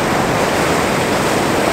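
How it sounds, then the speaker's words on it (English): A big ocean wave surges in over coastal rocks as a loud, continuous rush of churning water and spray, close by and steady throughout, with no one talking. "I'm looking for a biggish wave coming in"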